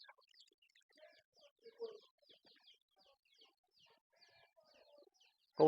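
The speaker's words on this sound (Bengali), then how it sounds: "কবুতরের সাথে মুরগির বাচ্চাগুলো খাবার খাওয়ার জন্য ঘুরতেছে" Young chickens forage for feed among pigeons on a farm, making faint, scattered high peeps and short clucks against near silence, followed by one sudden louder burst at the very end.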